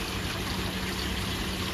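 Pond filter water spilling back through a Bakki shower into a koi pond, a steady close trickling and splashing wash with no breaks.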